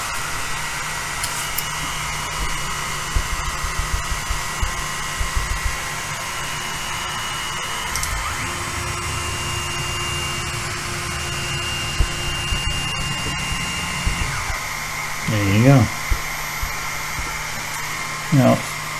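A Genmitsu LC40 10-watt laser engraver switched on gives a steady fan-like whir with a faint hum, followed by a few short electronic beeps near the end.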